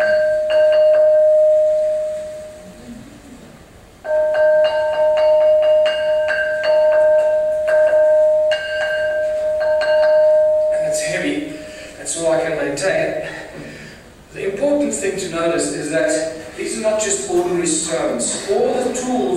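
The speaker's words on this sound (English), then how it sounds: "these stones ring like bells" A piece of black hornfels stone rings like a bell when struck, with sustained clear tones repeating, followed by a busier stretch of sound.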